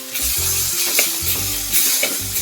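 Onions sautéing in a pan for fish curry, with turmeric powder added, produce a loud, continuous sizzle over a low tonal hum, with a few brief stirring scrapes.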